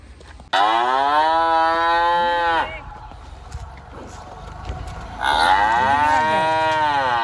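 Two long, loud cow moos close by in the Konkan countryside, separated by a short pause filled with quieter outdoor background noise.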